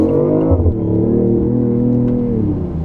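A 2015 BMW i8 Pure Impulse Limited Edition pulls away from a stop, its engine revving loud and close in the cabin with rising pitch through the gear.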